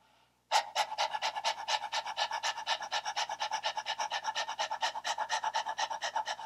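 Rapid rhythmic panting breath imitating a dog during a Kundalini yoga breath of fire exercise, open mouth with tongue out, fast even puffs repeating steadily and close after a brief quiet start.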